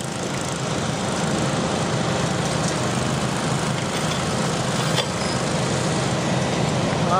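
A John Deere 318 garden tractor drones steadily at a fair stoneboat pull, its engine running continuously under heavy load with a constant, loud hum and no pauses.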